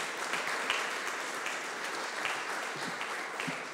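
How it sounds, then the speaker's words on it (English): Audience applause at an alumni event honoring a graduate, a steady, moderately loud wash of many hands clapping that holds throughout. "let's all applaud for Andy"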